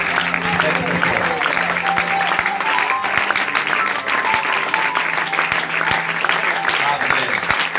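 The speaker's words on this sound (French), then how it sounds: "Acclamez pour le roi très très fort" A church congregation applauds and cheers loudly for the king, with steady dense clapping and crowd voices running throughout.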